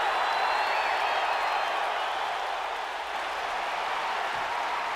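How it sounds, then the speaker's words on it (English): Arena crowd in Philadelphia from the WWE 2K19 wrestling game, a dense, sustained roar of cheering and chanting that holds steady and loud from start to finish. "this crowd in Philly won't let Edge get a word in edgeways"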